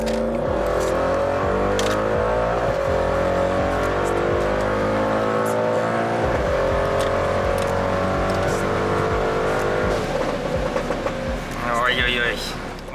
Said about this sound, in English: with Sven from Brabus, we are here on German Autobahn, on German nuclear rocket by Brabus